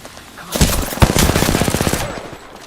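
Rapid automatic gunfire in the Apex Legends video game, a loud sustained burst of evenly spaced shots with a sharp blast near the start, tailing off after about two seconds.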